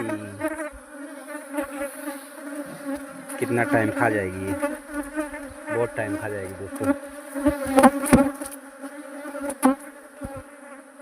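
A dense swarm of honeybees buzzing close by, a continuous droning hum with individual bees passing near, while someone talks over it in Hindi.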